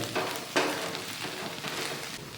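Moringa (drumstick) leaves sizzle and fry in a hot pan as they wilt down, a steady close crackle with a couple of louder bursts, probably from stirring, and no talk.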